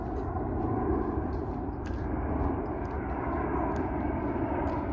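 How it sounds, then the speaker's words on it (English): A steady, broad roar of an airplane passing overhead, constant and moderately loud throughout, with faint scattered clicks on top. "The sound of the plane coming"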